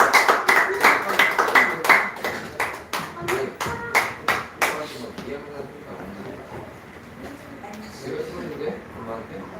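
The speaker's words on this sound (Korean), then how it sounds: "주님께 영광 박수 드리겠습니다." A burst of congregation clapping in a Korean church service, with sharp, rhythmic claps for about five seconds, then fading into murmuring voices and room noise.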